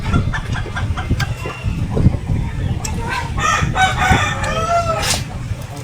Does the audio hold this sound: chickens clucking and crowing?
yes